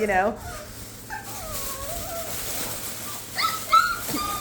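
Puppies whimper in thin, high whines, one near burst at the start and another a few seconds later, with quieter fussing between them.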